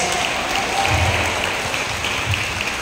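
A church congregation in San Pascual, Batangas claps steadily for Jesus, a dense sustained wash of many hands filling the room for a few seconds with no voices over it.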